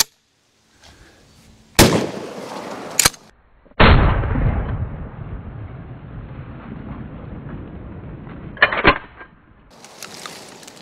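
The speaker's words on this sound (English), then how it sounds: "How about a 12 gauge slug?" Sharp, loud gunshots from a 12 gauge shotgun firing slugs at jack-o'-lanterns on an outdoor range, two quick reports, then a heavy blast with a long rolling echo, and a final shot.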